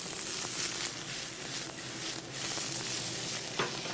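Leeks sautéing in butter in a pan, a close, steady crackling sizzle that swells and dips slightly with occasional stirring, heard alone without talk.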